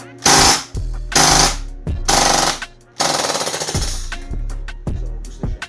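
A Maruzen MP5K gas blowback airsoft rifle fires loud, rapid full-auto bursts of sharp cracks, several separate strings with brief gaps, very close to the listener.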